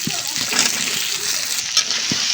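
Potatoes and onion flowers stirred and frying in spiced masala give a steady sizzle with soft scraping stirs, close and continuous, with no talk.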